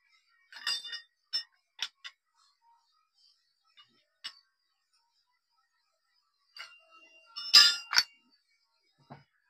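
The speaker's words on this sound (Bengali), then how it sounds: "এবার নাটটাকে ভালোভাবে খুলে নেবো।" Metal clinks and knocks from a spanner loosening a nut on a Maruti S-Presso steering rack, scattered sharp taps with a louder cluster of clanks near the end, no talking.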